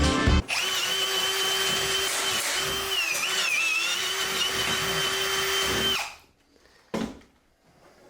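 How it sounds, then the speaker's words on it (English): Power drill whining steadily under a 1972 Nova during a four-speed swap, loud and close with a brief pitch wobble, then cutting off into near silence broken by a short clunk. "Mike Madman Savage run the drill here."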